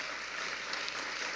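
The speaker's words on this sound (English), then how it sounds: "Yeah, big round of applause." Applause from an audience at a developer summit quiz, greeting the winner as they come up; a steady, dense wash of clapping throughout, without speech.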